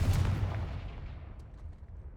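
Blast spells Bombarda and Confringo in Hogwarts Legacy go off as a heavy explosive boom, loud at first and then trailing into a fading rumble.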